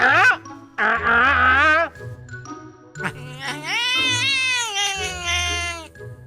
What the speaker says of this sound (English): Here's another crooning kitty.